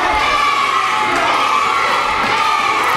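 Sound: wrestling crowd cheering

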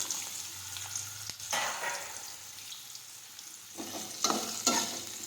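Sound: mustard seeds, cumin, asafoetida and kantola frying in hot oil

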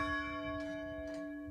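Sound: church bell ringing

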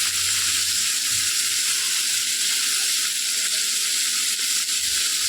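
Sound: capsicum and onion frying in a pan

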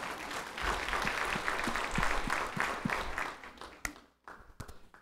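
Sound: church congregation applause

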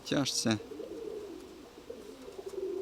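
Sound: pigeon cooing

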